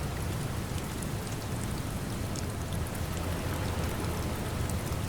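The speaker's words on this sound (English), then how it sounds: "the soft sound of rain that is beginning to fall somewhere nearby" Soft rain falls steadily nearby, a dense, even patter of drops that holds at a constant gentle level throughout with no voices.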